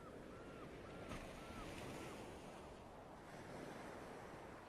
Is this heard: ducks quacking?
no